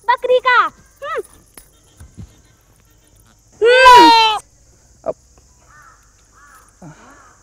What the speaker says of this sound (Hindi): सलमा हमारी बकरी का नाम है, बकरी का